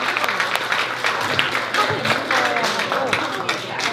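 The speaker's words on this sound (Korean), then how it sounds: "큰 박수 부탁드리겠습니다." Audience applause at a Gyeonggi sustainable development town hall meeting, steady dense clapping from a seated crowd, moderately loud, with a voice speaking over it.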